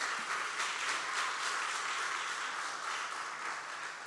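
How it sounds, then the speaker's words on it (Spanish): Church congregation clapping in a steady wash of applause, fairly distant and soft, with no talking over it. "Un aplauso al Espíritu Santo otra vez."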